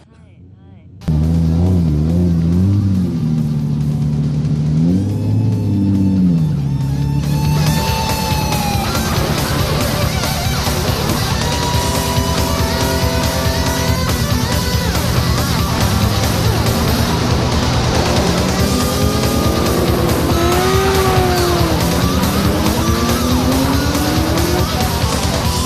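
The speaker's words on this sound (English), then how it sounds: "This is a 92 R32 GTR." A 1992 Nissan R32 GTR race car on a street course in Japan revs loudly and continuously up close, engine pitch rising and falling through gear changes, with tire squeal sweeping across the mix and a voice talking underneath.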